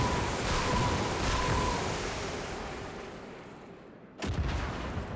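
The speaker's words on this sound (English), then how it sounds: "Makes a huge explosion." A tank shell explodes in Gates of Hell, a loud booming blast that rolls and fades over several seconds before a second sharp crack lands near the end.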